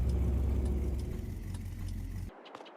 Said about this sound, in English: let me just park this up and I'll show you the new tractor